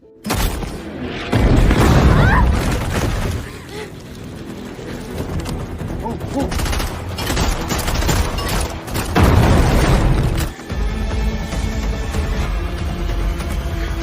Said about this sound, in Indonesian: terjadi kejar-kejaran dan baku tembak yang sengit